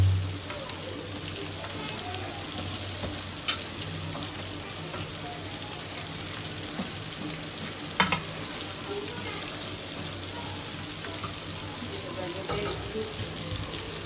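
Cabbage frying in a pan with onion and garlic, a continuous soft crackling sizzle with occasional stirring taps, close and moderately quiet, steady throughout with a faint background hum and no voices.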